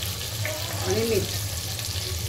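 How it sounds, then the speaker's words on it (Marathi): Eggs fry in a pan with masala of turmeric and salt, giving a soft continuous sizzle with a brief stirring scrape partway through. "फ्राय करणार आहोत। त्यासाठी अंडी आपण याच्यात टाकून घेऊया।"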